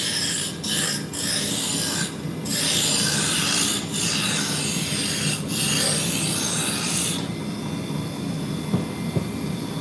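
A roughing gouge cuts into spinning wood on a lathe, bringing the diameter down: a loud, continuous scraping rasp with a few brief pauses, then a steadier, smoother whir near the end.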